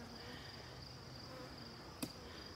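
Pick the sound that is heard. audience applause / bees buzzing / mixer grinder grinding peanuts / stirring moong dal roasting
bees buzzing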